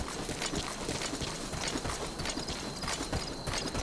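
A horse's hooves clip-clop in a quick, steady galloping rhythm in the video game Metal Gear Solid V: The Phantom Pain, loud and close, with faint mechanical clatter underneath.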